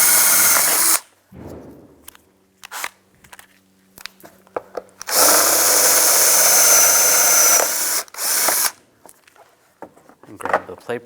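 Two bursts of a power drill whirring while drilling out license plate bracket rivets on a 2010-2016 Cadillac SRX, one short and one longer, separated by clanks, handling noises and quieter gaps.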